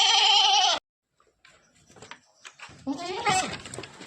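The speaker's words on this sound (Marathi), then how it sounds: "हे बघा सर्व आमच्या शेळ्या आहेत" A loud, sustained goat bleat up close inside a goat shed on a Konkan farm, then a pause and scattered shuffling before several more bleats and animal noises, including young goats, overlap.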